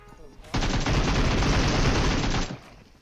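Sustained rapid gunfire in PUBG Mobile, a loud dense burst of automatic shots lasting about two seconds, starting abruptly and cutting off cleanly.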